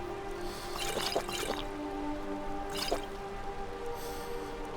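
Water sloshes and trickles as a container is filled from a river in the video game Skyrim, with two short splashy bursts over steady ambient game sound and no talking.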